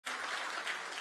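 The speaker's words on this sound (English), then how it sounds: "Let's clap until he gets here." Audience clapping for the winner at a grand finale event, a steady, dense burst of applause throughout with no talk.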